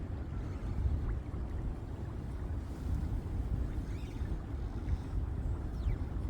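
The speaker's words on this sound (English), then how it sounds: "Oh, listen to that wind." Steady, blustery wind roars and buffets the microphone with a low rumble. It rises and falls slightly over the clip, and nobody speaks.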